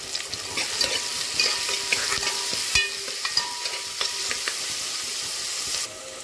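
Onions frying with salt in a pan sizzle loudly and continuously up close, while a spatula scrapes and clinks against the metal at irregular intervals.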